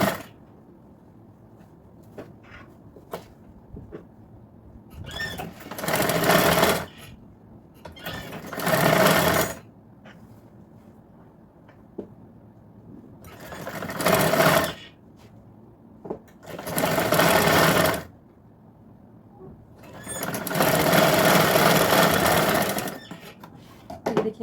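A sewing machine stitches blouse fabric in five loud whirring bursts of a few seconds each, close by, separated by quiet pauses filled with faint handling of cloth.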